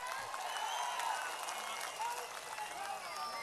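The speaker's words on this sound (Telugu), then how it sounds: "ఒకసారి చప్పట్లు కొట్టు బాలరాజుకి అందరు కూడా" An assembly crowd applauds with steady, dense clapping at a moderate distance, while voices carry on over it throughout.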